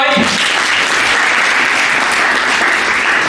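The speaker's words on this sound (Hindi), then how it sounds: "तालियां बजाओ भाई।" Students clapping at an engineering college induction program, dense and loud applause filling the room continuously, with a brief voice at the very start.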